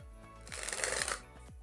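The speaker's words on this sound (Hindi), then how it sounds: "ये होता है कार्ड ड्रिबल" A deck of playing cards riffled in a quick card dribble, a dense rapid flutter of falling cards lasting under a second, close and loud against a quiet background.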